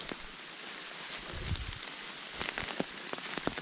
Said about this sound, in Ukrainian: Як ви чуєте і бачите, в лісі потемніло, падає дощ.